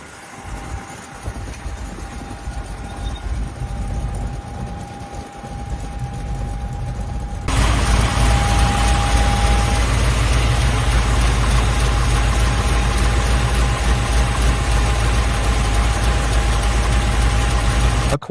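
The 383 stroker crate engine of a 1948 Ford Anglia pro street car runs close by, first as a lower steady drone, then jumping to a much louder, fuller roar about halfway through that holds to the end.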